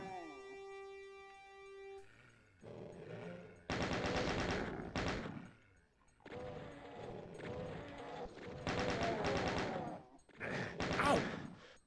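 Chaingunner enemies in Doom II firing machine guns, bursts of rapid gunfire in several loud stretches after a brief electronic tone, dense and close, with no talk over it.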